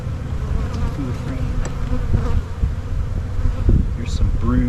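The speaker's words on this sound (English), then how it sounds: "take this frame of nurse bees" Dense honeybee buzzing from an opened hive during swarm control work, nurse bees on brood frames, a steady loud drone that holds throughout with faint handling noises and no speech.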